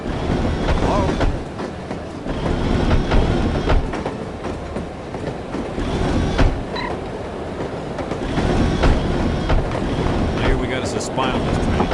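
A train in the video game No One Lives Forever rolls along its rails with a continuous rumbling clatter and rhythmic clicks, carriages creaking, loud and close throughout, with faint talk underneath.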